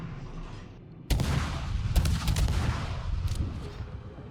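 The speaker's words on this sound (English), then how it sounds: "I'm shooting up, trying to get above his guns, aiming at the superstructure and the area of the deck where his secondaries are." Heavy naval gunfire from the cruiser Atlanta in World of Warships, a sudden loud broadside of booming shots followed by several sharp reports and a rumbling tail over steady background noise.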